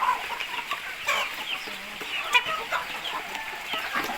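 Several chickens cluck softly and steadily nearby in a coop on a drizzly evening, with scattered overlapping calls.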